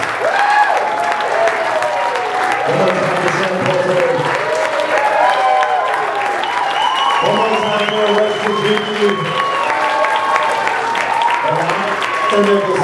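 Applause from a comedy club crowd at Wiseguy's Downtown carries on steadily under overlapping talk and tonal sounds, a continuous close wash of clapping lasting the whole stretch.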